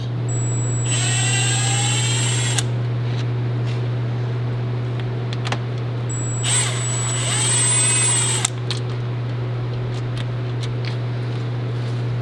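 A power tool on a Nissan R35 GT-R works bolts out of a car part in two whirring bursts of about two seconds each, over a steady low hum from a fan or compressor.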